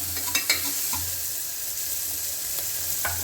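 Food frying and sizzling in a pan for a North Karnataka dish, a steady close hiss with occasional sharp pops and stirring scrapes.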